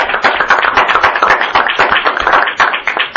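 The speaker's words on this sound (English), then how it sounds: "so that's another round of applause for them." A small group claps at a board meeting, close, crisp individual hand claps in a quick, fairly even rhythm lasting a few seconds with no talking over them.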